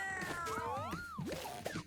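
A kitten creature in a breeding game gives a series of high, sliding meows, several short rising and falling calls over about two seconds, fairly close and clear, with faint game sounds underneath.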